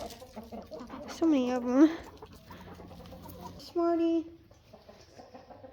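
Backyard chickens clucking and squawking in sleet or early snow, with two loud bursts of calls close by and softer clucks between, under a woman's quiet speech.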